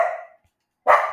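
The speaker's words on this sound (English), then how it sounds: "that's my dog barking" A dog barks twice nearby, two sharp separate barks with a short silent gap between them, in an indoor home setting with no talk over them.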